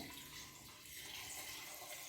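Water pours steadily into a cooking pot holding tripe and garlic, a continuous rushing splash of even loudness that lasts the whole short moment with no talk over it.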